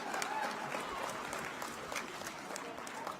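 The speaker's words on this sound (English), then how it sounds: "Can we give a round of applause to Jamie?" An audience at a political rally claps in a sustained, fairly faint burst of applause, with crowd noise and voices mixed in.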